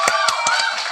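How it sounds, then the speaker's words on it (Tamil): A crowd in a film teaser claps and cheers, heard as a brief burst of about five sharp claps over sustained voices. "உடனே அங்க இருக்கிறவங்க எல்லாம் கை தட்டி ஆரவாரம் பண்றாங்க"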